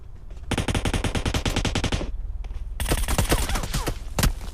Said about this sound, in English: We got automatic fire.